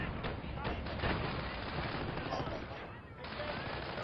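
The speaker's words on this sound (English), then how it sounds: "Single grenadier firing away at an AT gun" A single grenadier firing at an AT gun in Company of Heroes, with repeated rifle shots and distant battle rumble forming a dense, steady wash of gunfire.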